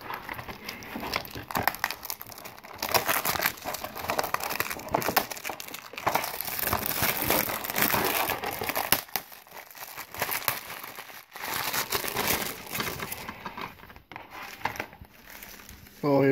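Plastic shrink-wrap on a Paw Patrol DVD case is torn and peeled open by hand, a long run of close, loud crinkling and crackling with brief pauses and a few sharper rips.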